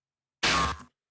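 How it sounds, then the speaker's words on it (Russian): A single snare drum hit from a horror-core necro-trap beat, a bright broadband crack with a short ringing tail around one kilohertz, loud and isolated with no talk. "Дальше идет третий снэр."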